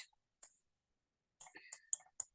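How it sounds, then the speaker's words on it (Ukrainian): Quiet, close clicks from pressing a button, a single click followed by a quick cluster of four or five, with near silence between them. "Нажимаю, воно не нажимається, не змінюється кольор."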